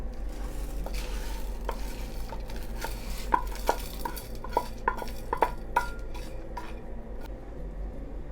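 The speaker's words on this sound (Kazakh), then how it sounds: "Сорпамыз қайнады, енді машты қосамыз." Mung beans stirred into boiling broth in a pot for a Kazakh soup, with soft scraping and clinks of a spoon against the pot over a steady bubbling simmer, alone and close.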